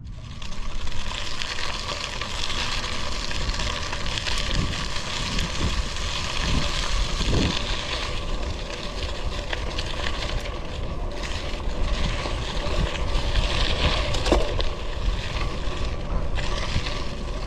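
A Poseidon X gravel bike rolls over gravel, its tires giving a steady, loud crunching hiss that runs continuously with small bumps and rattles throughout, no talking.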